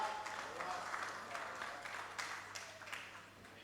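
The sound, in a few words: audience applause welcoming a speaker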